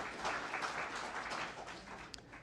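A seated audience at a library dialogue event claps together in a brief, moderately loud round of applause that fades out within a few seconds.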